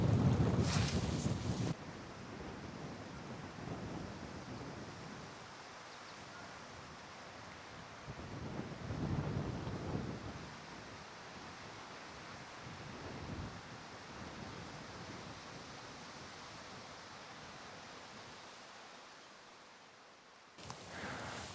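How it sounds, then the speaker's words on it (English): Strong wind gusting across a lake, heard as a steady broadband roar and microphone buffeting that swells in waves, with no talking. "This wind is kicking my butt."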